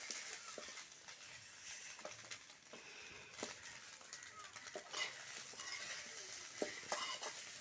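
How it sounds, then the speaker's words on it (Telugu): Fish roe stirred in a pan, soft scraping strokes and light sizzling in an irregular rhythm, quiet and close, with no speech over it. "చూశారు కదా వీడియోలో చూపిస్తున్న విధంగా అడుగు నుంచి ఇలా తిప్పుతూనే ఉండాలి లేదంటే కింద వైపు ఉండే గుడ్డంతా మాడిపోతుంది"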